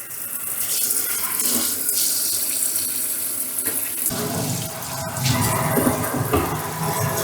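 Tap water runs steadily into a piano-type kitchen sink, a loud continuous splashing gush whose tone shifts and deepens partway through, with no voices.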